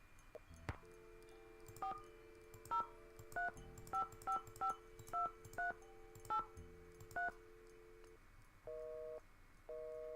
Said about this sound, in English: So maybe we have to dial 403 first.